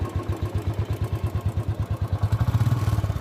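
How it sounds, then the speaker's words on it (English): A carbureted Royal Enfield Classic 350 motorcycle engine thumps away at a steady idle, loud and close, its rhythmic pulses quickening slightly toward the end. "the engine you see here is a very much louder engine compared to the 2020 model"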